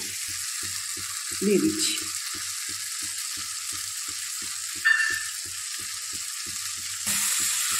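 Turmeric, cumin and coriander powder sizzle in a hot pan for masala noodles, a steady close hiss with a regular low pulsing beneath it and brief louder bursts as the spices go in, while a person speaks briefly.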